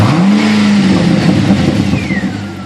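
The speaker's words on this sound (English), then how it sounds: "Give it a rev." A 2009 Pontiac G8 GT V8 fitted with straight pipes, with the resonators and mufflers deleted, revs up once, rising into a loud, rough exhaust roar and then settling back into a choppy, throbbing idle close by.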